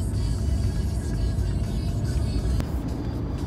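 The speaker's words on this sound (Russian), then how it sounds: "все, наш Мерседес уезжает." A Mercedes car driving away on a road, a low steady engine rumble with road noise, moderately loud and fairly constant, with no talk over it.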